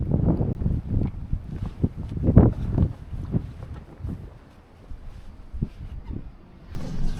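Gusty wind buffets the microphone in uneven bursts, easing midway then picking up again, with faint creaks and water movement around a sailboat at anchor in a sheltered bay off Turkey's west coast.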